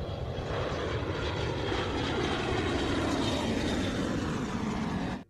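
An airplane flying near an airport in a film scene, a loud, steady engine roar that holds throughout, then cuts off abruptly at the end.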